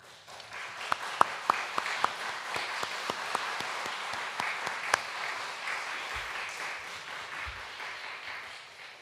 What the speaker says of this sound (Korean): 환영 박수 한번 하겠습니다.